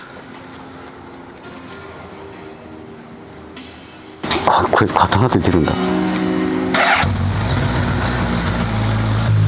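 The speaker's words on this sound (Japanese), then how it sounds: "ではね、エンジンをかけたいと思います" A Suzuki Katana 1000cc motorcycle is started up close after a quiet stretch with a brief remark. The starter churns and the engine catches loudly, then settles into a deep, steady idle.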